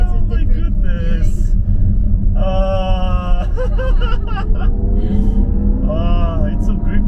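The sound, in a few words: Jaguar I-PACE car being driven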